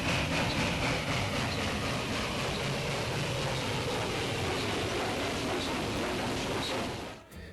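An old diesel locomotive pushes a coal train uphill, a heavy continuous rumble and roar of engine and rolling cars, steady and loud for about seven seconds before cutting off abruptly.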